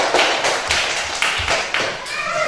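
Children in a classroom clap together for themselves during a lesson. About eight sharp, evenly spaced claps sound up close against a quiet room.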